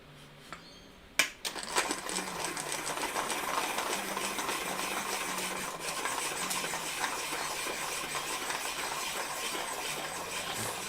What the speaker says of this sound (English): Of course, I need to sharpen this.